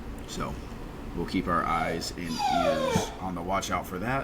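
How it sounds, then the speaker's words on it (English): A dog whimpers and yips in high, wavering whines, several short cries heard under and between a person talking nearby. "Apologize for the dog."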